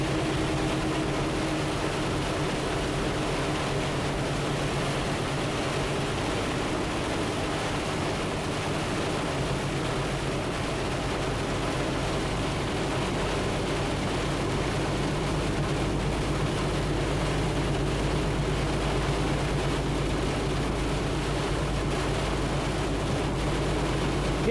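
Heavy rain pours on a truck cab during a close thunderstorm as a steady, dense wash of noise with a low rumble beneath it. It holds evenly throughout, with no talking.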